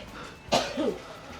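A single short cough, close and fairly sharp, in an otherwise quiet moment.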